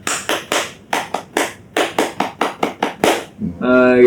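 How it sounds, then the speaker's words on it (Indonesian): A group performs the Indonesian scout clap, tepuk pramuka: a dozen or so crisp, loud, close claps in a patterned rhythm with short pauses, followed by a voice speaking at the end. "Mungkin kita tepuk pramuka dulu kak ya."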